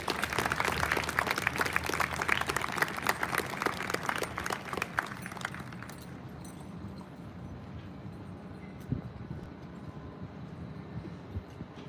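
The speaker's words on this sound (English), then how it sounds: "Please let's give a round of applause to these servant leaders." Dense outdoor applause for servant leader medal recipients at a military college academic honors parade, steady for about six seconds, then fading to faint scattered claps and ambient noise.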